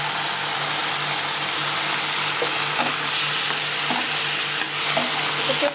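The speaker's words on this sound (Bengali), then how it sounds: "এটাকে হালকা একটা ভাজা দিয়ে নেব।" Raw plantain pieces coated with turmeric fry in hot oil with a steady, loud, continuous sizzle, accompanied by a few faint clinks of stirring and no speech.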